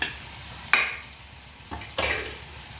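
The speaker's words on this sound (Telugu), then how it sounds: "ఇప్పుడు కొంచెం ఫ్రై చేయాలి ఆయిల్లో" Ginger garlic paste sizzling in hot oil in a pan, a steady close fry hiss broken by a few sharp stirring scrapes, no talk.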